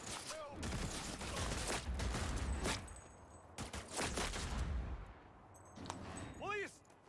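Video game gunfire in a slum district, repeated sharp bursts of shots in rapid clusters, loud and close, separated by short pauses and mixed with game sound effects and a rising whistling tone near the end.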